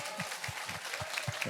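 An audience in a church claps in scattered, rhythmic bursts, fairly quiet and distant, with a faint voice underneath.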